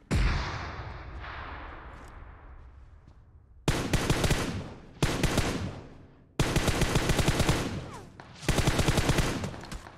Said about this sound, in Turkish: Mermi atıyorum, kaçıyorum.